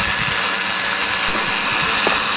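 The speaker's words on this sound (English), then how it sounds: "using either a power drill or an electric screwdriver, make some holes in the cap" A power drill or electric screwdriver boring holes into a plastic bottle cap, a steady loud motor whir with a continuous buzzing drone held throughout, close by, cutting off at the end.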